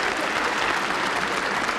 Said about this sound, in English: let's have a round of applause for Carlos James and the baseball team